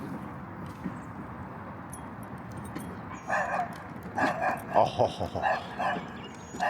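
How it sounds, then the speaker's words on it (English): A dog barks repeatedly in quick yappy bursts, fairly close, with a brief spoken exclamation mixed in. "that one's barking because of the dog"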